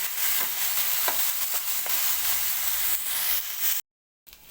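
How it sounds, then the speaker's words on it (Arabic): Alexandrian sausage sautéing in a pan, giving off a steady, loud sizzle and hiss while being stirred, with a few scraping touches throughout before the sound briefly cuts out near the end. "هنشوح فيه كده لغايه ما ياخد معانا لون حلو"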